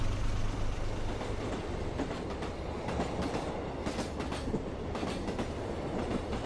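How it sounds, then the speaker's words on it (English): Aboard the hobby train on the Tosa Kuroshio Railway, a steady loud rumble of wheels on rails fills the cabin, with rhythmic clickety-clack beats over the track joints. "The hobby train departed from Wakai Station and is running on the Tosa Kuroshio Railway towards its final destination, Kabakuwa Station."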